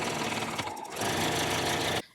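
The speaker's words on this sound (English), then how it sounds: "I'm going to stitch down each side. I'm starting on the open side first. Spin it around and sew down the next side." A sewing machine stitches down the side of a zipper pouch with a steady, close mechanical whir that pauses briefly, resumes, and cuts off abruptly at the end.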